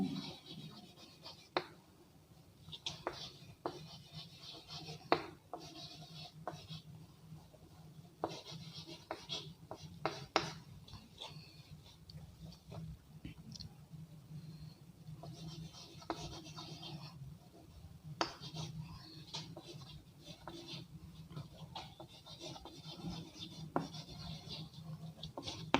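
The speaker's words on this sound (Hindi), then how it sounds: "एक सेंटेंस लिखते हैं" Chalk or marker writing a sentence on a classroom board, with close, quiet, irregular scratches and taps over a soft background hum, continuing for about twenty-five seconds.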